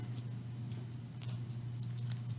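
Sheet of printing paper crumpled by hand, giving a steady run of dry crackles and small crisp snaps over a low constant hum, fairly close.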